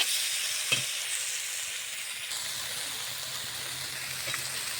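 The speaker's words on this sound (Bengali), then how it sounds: "অনেক টাইম ধরেই মাছটাকে সুন্দর করে কষিয়ে নিলাম" Shrimp being sautéed and stirred in a frying pan: a steady, even sizzle fills the clip with a couple of faint spoon knocks early on, close and without speech.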